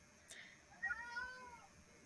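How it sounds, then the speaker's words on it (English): A cat lets out a couple of drawn-out meows, fairly close and clear, the second call longer with a wavering pitch, over a quiet indoor background. "Bad kitty."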